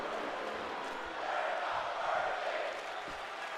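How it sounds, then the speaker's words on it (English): A crowd in a WWE wrestling video game swells into a sustained chant, a dense, fairly distant roar of many voices that rises midway and holds without clear breaks. "This crowd starting to chant, "We're not worthy.""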